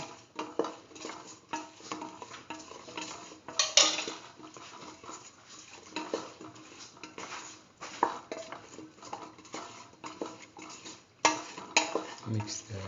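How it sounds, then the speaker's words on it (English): Eggplant pieces being stirred into a split mung bean mixture in a pot: a spoon scrapes and clinks against the pot in irregular bursts, close and moderately loud, with no talking. "Mix the eggplant and the aubergine pieces thoroughly with the rest of the mixture."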